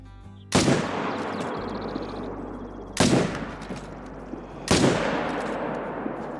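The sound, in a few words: rifle gunshot at elk, from hunting video game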